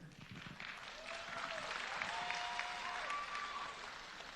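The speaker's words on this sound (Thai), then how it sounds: "เอาปรบมือเป็นกำลังใจค่ะ" An audience applauds a Miss Thailand 2019 pageant contestant in the Top 8 round, steady clapping swelling and holding through a few seconds, with a faint voice and brief tonal sounds over it.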